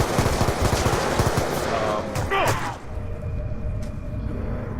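Gunfire in the video game Black Ops 2 on the Buried map, a loud burst of rapid automatic shots followed by a rumbling low boom and a fading tail.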